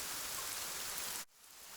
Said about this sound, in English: A dark cloud comes, and it begins to rain.